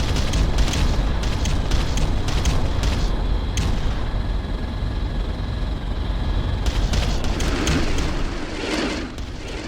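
Artillery bombardment in the real-time strategy game Ground Control: a loud barrage of booming explosions, with rapid clustered blasts at the start and again near the end over a continuous rumbling roar.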